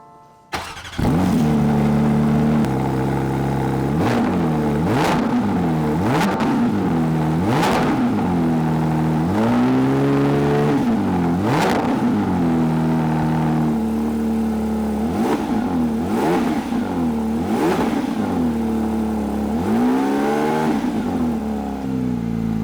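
A powerful GT3 RS sports car engine revs over and over, each blip climbing sharply in pitch then dropping back, loud and close over a steady idle.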